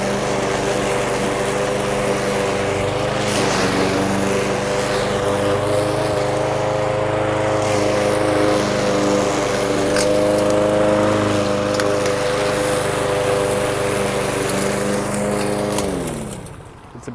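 Snapper SP 90 lawn mower cutting a huge lawn, its engine droning loud and steady nearby for the whole stretch before dropping away at the end.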